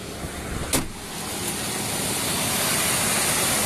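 Rushing airflow from a cold air intake on a running Ford Sport Trac engine, a broad steady whoosh building slightly in strength, close up, with a brief whistle near the start.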